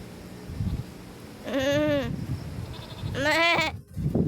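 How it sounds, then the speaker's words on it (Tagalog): A goat bleats twice at night, two drawn-out wavering cries a second or so apart, close and fairly loud, with people talking around them. "Ayan guys, may kambing."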